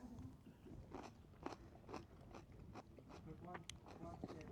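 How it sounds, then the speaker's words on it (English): Crisp bites and crunching into a pickled onion as part of a ploughman's lunch in a Dorset cafe, several sharp crunches spread across a few seconds, close and fairly quiet with faint background noise. "So let's try the pickled onion."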